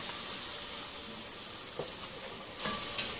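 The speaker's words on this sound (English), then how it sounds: "Now after you dump them in here, you want to make sure you stir them until they're a nice golden brown" French fries bubble in hot oil while being stirred, giving a steady close sizzle with a few brief scraping stirs near the end.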